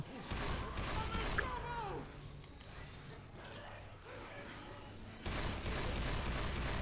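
Gunfire in the co-op zombie shooter Left 4 Dead 2, with rapid bursts of shots at moderate volume mixed with excited voices talking over the action.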